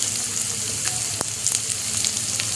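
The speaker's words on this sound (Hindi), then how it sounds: "जब भी प्याज फ्राई करें उसको थोड़ा हिलाते रहें, थोड़ा हिला हिला के पकाएं इसको।" Onions fry in a pan with a loud, continuous sizzle, close by, joined by a few sharp clicks of a spoon being moved through them, with no speech.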